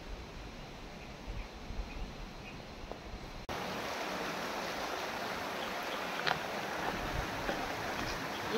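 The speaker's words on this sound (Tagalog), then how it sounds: "Ilog dito sa Osorio" A river stream at Osorio, Trece Martires, Cavite rushes in a steady broadband wash of flowing water, growing louder and closer partway through and continuing unbroken with no talking.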